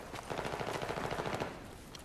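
Rapid bursts of automatic gunfire in a first-person shooter match on a bazaar map, with a fast rattling rhythm of shots that are moderately faint and unaccompanied by talk.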